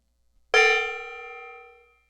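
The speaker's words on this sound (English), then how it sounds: "so I'm going to hit the gong" A single metallic strike rings out loud and close, then its bright tone decays smoothly for about a second and a half in a quiet room.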